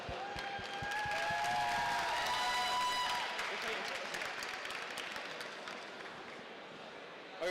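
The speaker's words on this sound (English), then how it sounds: "So we give you another round of applause." Applause from the audience at a hackathon's opening ceremony, marking its tenth anniversary. Dense clapping fills the opening seconds alongside a few faint whistle-like tones, then thins and fades toward the end.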